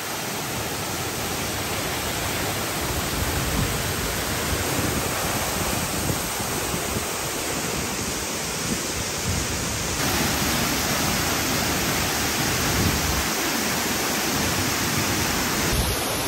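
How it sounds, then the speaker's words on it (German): A waterfall near Ubud on a green jungle path, water crashing down in a steady, loud, broadband roar that fills the whole stretch with no voices. "da oben stürzt das Wasser ab."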